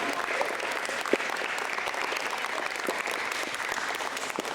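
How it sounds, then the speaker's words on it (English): A school audience claps for mothers and grandmothers, giving steady, dense applause with no voices, the sound moderately distant and even throughout. "Let's give our mothers and grandmothers and aunts a big round of applause."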